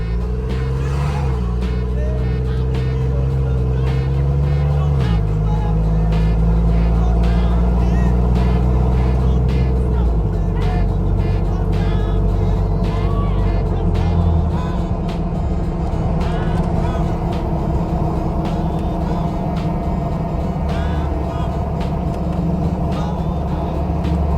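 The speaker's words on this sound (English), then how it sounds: "We'll take it up to 70 miles an hour, see how it shifts." A vehicle fitted with Spicer 5.13 gears accelerates up a highway on-ramp toward 70 mph. Loud engine drone climbs in pitch, drops at each of several gear shifts, then settles into steady road noise.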